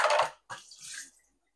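Items being washed under running water at a home sink, a short splashing burst, a brief pause, then softer trickling that fades out.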